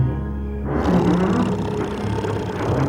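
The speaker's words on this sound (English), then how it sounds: "It was the loudest snoring you ever heard." A huge, roaring cartoon snore from an animated bridge rumbles loud and continuous for a few seconds, deep and throaty with no talking.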